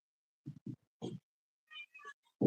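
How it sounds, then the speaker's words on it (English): Several short, quiet meows from a cat come in quick succession, with a couple of higher chirpy calls, close by and otherwise silent. "Lila, that's my kitty"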